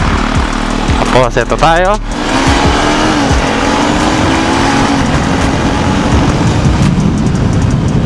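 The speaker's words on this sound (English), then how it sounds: "I'm going to show you guys how Breezy rides a scrambler" A UM Scrambler 150 motorcycle engine drones steadily while riding, with a continuous broadband rumble and wind under brief speech near the start.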